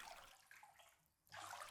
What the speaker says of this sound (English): Very well. I will just wash you in the tub then.